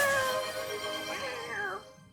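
A cat meows in a drawn-out, wavering call lasting about two seconds, fairly close and clear over low background noise, with people chatting around it.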